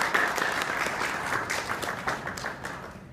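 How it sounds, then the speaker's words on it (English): An audience applauds the author Irvine Welsh at an interview event in West Palm Beach: dense, steady clapping from a sizeable crowd that holds for about three seconds and then thins slightly toward the end. "A big round of applause for today's author."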